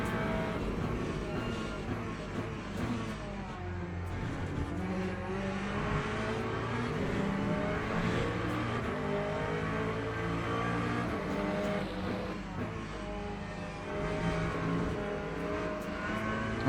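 A race car in a racing game at Monza, its engine droning and shifting pitch continuously as it accelerates and lifts through corners, steady and fairly loud throughout with no talking.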